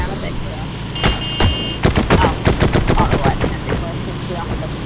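Rapid machine gun fire in a video game, a quick string of about a dozen sharp, loud shots in a steady rhythm after a couple of opening blasts, with engine rumble underneath and someone talking over it.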